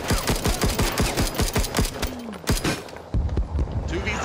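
Artillery fire support barrage in Rising Storm 2: Vietnam, a rapid rhythmic string of heavy gunshot bursts followed by a few scattered louder blasts, with voices faintly mixed in.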